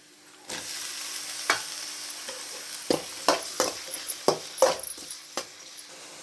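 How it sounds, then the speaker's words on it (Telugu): Tomato stirred and fried with golden onions in a pan, a low steady sizzle broken by a run of quick scraping spoon strokes, close and clear, no speech. "టమాటో యాడ్ చేసాక బాగా కలుపుకోవాలండి"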